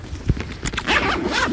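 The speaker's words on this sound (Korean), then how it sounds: "이 안에 지퍼가 열리면 이렇게 여기까지 나올 수 있는 거예요." A zipper opens on a dog carrier backpack, a close, scratchy rasp that starts with a few short tugs and then runs into a longer continuous pull.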